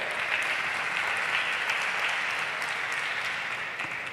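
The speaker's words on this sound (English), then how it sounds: "can we please have a big round of applause?" A room full of JIIF members gives a big round of applause, a dense, even wash of clapping that stays steady and loud throughout, slightly easing toward the end.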